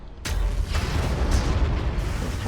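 Tank cannon fire and explosions in the Armageddon strategy game as tanks attack super heavy units: a sharp blast opens, then rolling booms and further detonations rumble on continuously, heavy in the low end, with faint sharper bursts layered over them.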